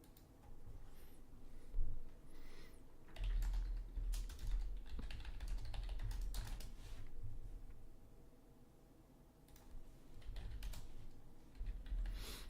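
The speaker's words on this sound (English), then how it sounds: "my brother's typing to me about some stuff" Typing on a computer keyboard, close-up clusters of quick key clicks in uneven bursts with brief pauses, fairly soft against a quiet room.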